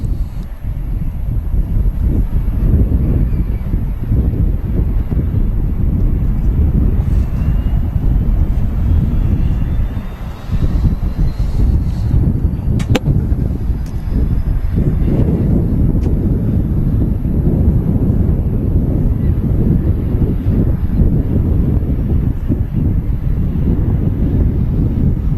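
An EasyJet airliner lines up on the runway and takes off for Bordeaux at Manchester Airport, heard as a loud, steady low-pitched engine roar buffeted by wind on the microphone, with a brief dip partway through.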